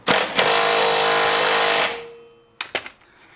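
A power tool tightens coilover bolts on a 240SX S14 with an RB25DET swap, fitting Feal 441+ coilovers: one loud, close, rattling burst of about two seconds, then a few short sharp clanks.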